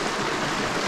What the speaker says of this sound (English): So lots of water rushing through